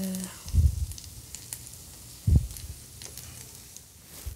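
Stuffed French toast filling hits a hot pan with a soft, steady sizzle and low frying crackle. Two dull thumps from the pan and spoon punctuate the cooking, and faint talk sits under it.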